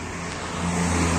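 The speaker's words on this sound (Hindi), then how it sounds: "12 चक्का टाटा की गाड़ी है।" A 12-wheel Tata truck's diesel engine rumbles close by, a steady low drone that swells slightly louder toward the end, with no talking.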